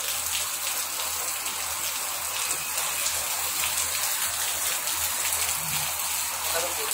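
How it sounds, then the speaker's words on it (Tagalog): Heavy rain pours steadily during flooding in Palawan, a loud, dense, continuous hiss of drops striking surfaces close by, unbroken throughout. "Oh, kusog ulan."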